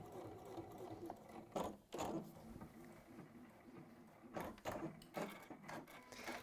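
A sewing machine stitches fabric in quick mechanical bursts, with louder needle runs at the start, in the middle and toward the end, over a steady low background hum.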